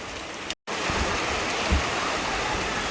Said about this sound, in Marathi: पण आता शेवटी झालाय पाऊस चालू